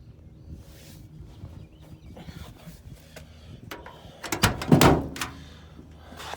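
The door of a 1977 Chevrolet C10 square-body short-bed pickup is handled up close, with scattered clicks and rattles building to a loud cluster of metallic clunks and a latching thud.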